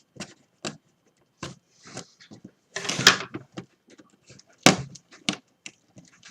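Packing tape peels off a Philips SHH8608 headphone box in a series of sharp, close rips and tugs with pauses between, and no talking.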